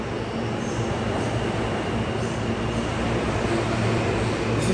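A New York City subway train fills the space with a steady, loud rumble and broadband roar, constant throughout with no pauses and no voices over it.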